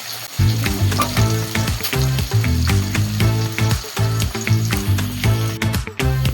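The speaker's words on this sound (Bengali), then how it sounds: "পেঁয়াজটাকে আমরা ব্রাউন হয়ে যাওয়া অবধি এটাকে ভাজবো।" Onions fry in a pan until brown for a mutton curry. A dense, steady sizzle runs almost without a break, and rhythmic background music with strong bass notes plays over it.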